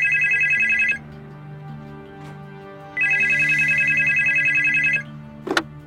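An old-style telephone rings in a house a few hours outside Washington, two long electronic ring bursts with a pause between, loud and close over a low hum, with a brief click near the end.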